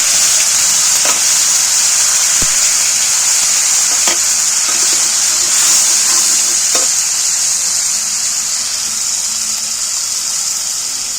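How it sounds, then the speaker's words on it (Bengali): Peanut-tomato masala paste frying in hot oil while being stirred, with a loud, continuous close sizzle and occasional spoon scrapes and clicks against the pan. "এবার আমি তেলের মধ্যে এই পেস্ট করা মশলাটা নাড়াচাড়া করতে দেবো একটু ভেজে নেব"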